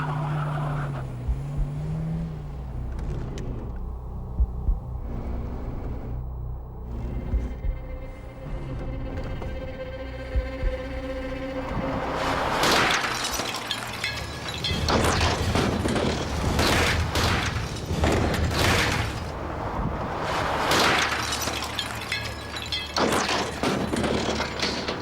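Car striking an aluminium road sign post at high speed on a test track, with a rising engine approach followed by a cluster of loud, sharp impact bangs and clattering debris, near and without talk.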